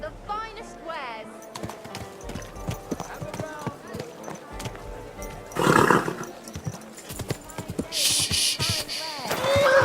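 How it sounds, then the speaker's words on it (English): Horse in the video game Kingdom Come: Deliverance II, with clip-clopping hooves and a whinny under game music, plus bursts of louder noise later on. "Easy, good horse."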